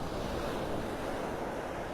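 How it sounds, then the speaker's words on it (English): Big waves pound a stormy beach in continuous roaring surf, mixed with wind gusting across the microphone, loud and unbroken with no voices. "There's some big waves here."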